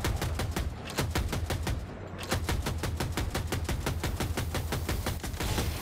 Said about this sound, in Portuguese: Olha os seus tiros caindo aqui.